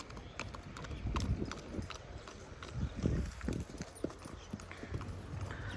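Hooves clip-clop irregularly on hard ground as a Nukra mare shifts and steps about nearby on a stud farm, with faint voices in the background.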